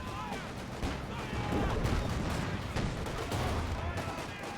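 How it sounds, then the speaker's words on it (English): Rapid gunfire and artillery blasts ring out as units fire at a T-70 tank in a Company of Heroes 2 match, loud repeated bursts over dense battle noise, with no speech. "Might try and take a couple of shots at the T-70"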